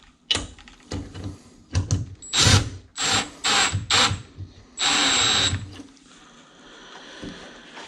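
Screw driven in with a power drill while installing a Schlage touchscreen keyless entry deadbolt lock, several short close bursts of whirring, the last one longer and steady, then quiet.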